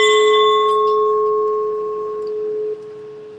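A single bell struck once at an outdoor rally against the death penalty rings with a clear, sustained tone that slowly fades over several seconds, standing alone without talk.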